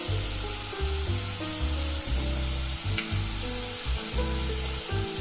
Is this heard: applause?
no